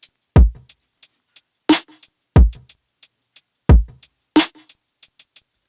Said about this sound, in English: So here are the drums by themselves.